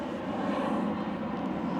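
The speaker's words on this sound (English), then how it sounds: "Excuse the aeroplane." An aeroplane passes overhead near a skate park, a steady broad engine roar that holds at a fairly loud level throughout with no talking.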